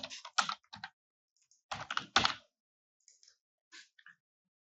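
Close computer keyboard typing in short bursts of quick clicks separated by pauses, with a few isolated taps near the end, alone in a quiet room.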